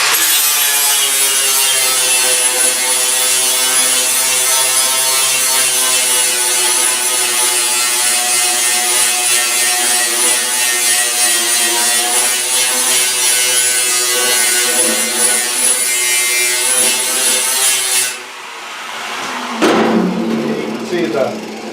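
Ryobi 4.5-inch angle grinder fitted with an 80-grit flap disc grinding a car door skin on an El Camino, a loud, steady high whine held for about eighteen seconds before cutting off.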